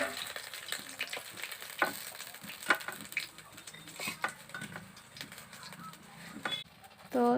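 Lentil-stuffed pointed gourds sizzle in hot oil in a karai, a steady frying hiss broken by stirring clicks and utensil taps, with a brief louder scrape near the end.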